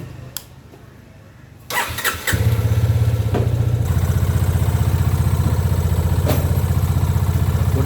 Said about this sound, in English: I have just shut off the valve and I'll start the bike.